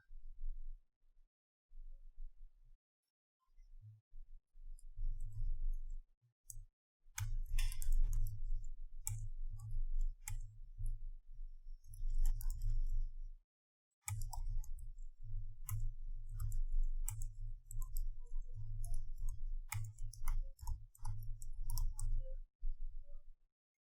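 Rapid keyboard clicking comes in bursts of typing with short pauses between, close and fairly steady, with no talking.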